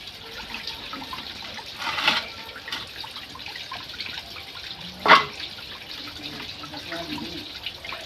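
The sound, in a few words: washing vegetables under running water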